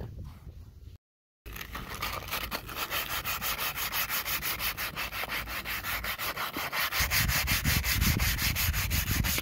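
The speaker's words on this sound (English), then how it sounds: "On this one, I'm just going to run some sandpaper over it." Sandpaper is rubbed rhythmically back and forth over the brake rotor of a 2013 Ford F150 truck, a close, steady rasping scrape that keeps a regular stroke and grows louder toward the end.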